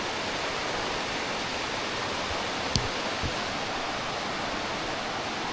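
Steady rain falls outside in a Jamaican backyard, an even, continuous hiss with no letup, broken only by a couple of faint knocks.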